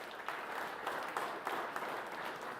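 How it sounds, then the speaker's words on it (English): A crowd applauds finalists at a high school conference fall sports player of the year awards ceremony; steady, moderately faint clapping from a room full of people, sustained without speech for a few seconds. "So you can give these guys a round of applause,"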